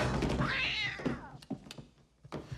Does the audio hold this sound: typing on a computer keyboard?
no